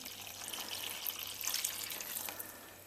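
Warm water is poured into a bowl for homemade pizza dough, a faint, close trickle and splash that rises briefly in the middle and then tapers off.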